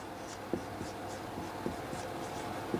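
Chalk or marker strokes on a board in a physics class, soft repeated scratches and taps in an irregular rhythm over a quiet room hiss.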